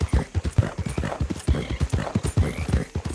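Horse hooves clip-clopping in the video game Red Dead Redemption 2, a brisk steady rhythm of close, loud hoofbeats on the ground, with no talking.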